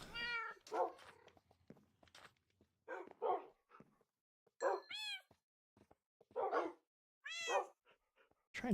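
Dogs in the video game Minecraft give short yips and whimpering barks in scattered bursts, some with high whining tones, fairly close and alone with no talk over them.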